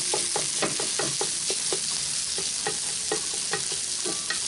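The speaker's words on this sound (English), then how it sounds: "Now we're going to go in with our pork breakfast sausage. We'll let that, kind of chop that up and let that start to render down a little bit." Pork breakfast sausage frying in a cast iron skillet, a close sizzle broken by repeated sharp scraping taps of a utensil chopping and stirring the meat.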